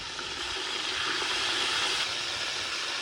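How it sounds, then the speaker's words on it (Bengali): Crabs frying in hot mustard oil in a kadai over a village stove: a steady, loud, even hiss and sizzle that holds without a break. "এবার কাঁকড়াগুলো ভেজে নেব।"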